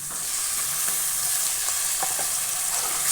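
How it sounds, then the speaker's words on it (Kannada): Steady, loud sizzling of chopped vegetables, including carrots, frying in oil as potatoes are added to the pan, with a few soft stirring scrapes running through the hiss. "ನೆಕ್ಸ್ಟು ಆಲೂಗಡ್ಡೆ ಹಾಕ್ತಾಯಿದ್ದೀನಿ."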